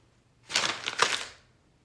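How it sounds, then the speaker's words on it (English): Paper sticky note crumpled into a ball by hand, a single close, crisp crackling burst lasting about a second against near silence. "Can you crumple up your sticky note into a ball?"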